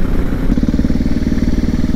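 A motorcycle runs steadily along a coarse gravel field road in the countryside, its engine a continuous mid-pitched drone with a faint crunch of tyres on loose stones, close and loud throughout with no talking.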